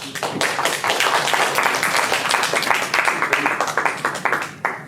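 Applause from an audience at a corporate grand opening, a dense sustained patter of many hands clapping for the full stretch, moderately loud and fading slightly at the end.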